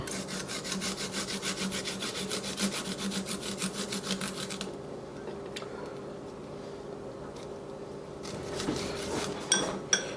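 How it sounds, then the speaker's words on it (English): A garlic clove is rubbed over a grater in rapid, rhythmic scraping strokes for about four seconds, then quieter handling and a few light clicks follow, close up. "we are going to grate 1 clove of garlic"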